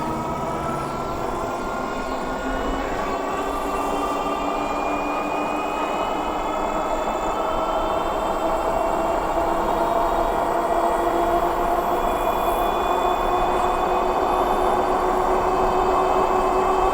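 An EUYBIKE C3 electric fat tire step-through bike pulls away from a dead stop on throttle only, its motor whine rising steadily in pitch alongside continuous road and wind noise, with no talk.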